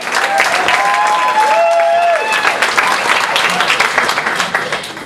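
Audience in a hotel function room clapping for a young traditional Irish music group at a battle of the bands, a loud, sustained round of applause with a few whistles rising over it.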